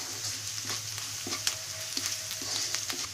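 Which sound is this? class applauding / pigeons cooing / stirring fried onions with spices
stirring fried onions with spices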